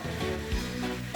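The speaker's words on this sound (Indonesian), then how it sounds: "Ayam kampungnya digoreng langsung tanpa basa-basi." Pieces of free-range village chicken deep-fry in hot oil, giving a dense, continuous crackling sizzle up close with a brief lower bubbling burst partway through, and no talking.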